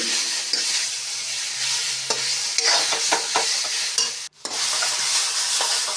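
A curry of green banana, papaya, tomato and fish is stirred and sautéed in a pan, steady sizzling with repeated spatula scrapes and knocks, close up, with a brief cut near the end.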